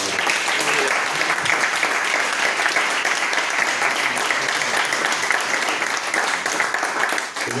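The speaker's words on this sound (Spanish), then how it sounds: "así que también otro aplauso para" An audience at a colloquium with a singer breaks into sustained, loud applause that fills several seconds and thins slightly near the end.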